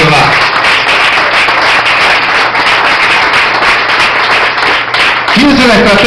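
A church congregation in Venezuela claps for the Lord during a sermon, a loud sustained wash of applause with a voice cutting in near the end.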